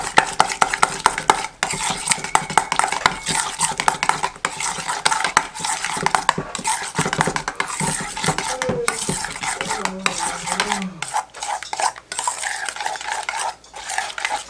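Grated Comté cheese is stirred into a gratin mixture of chard and bacon in a dish. A utensil scrapes and clatters steadily and busily against the dish throughout, close and fairly loud, with no talking.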